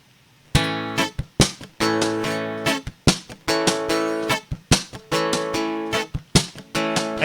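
An acoustic guitar strums a slow, steady pattern close by, with full chords broken up by sharp, muted slaps. The rhythm repeats evenly and carries on alone without any voice.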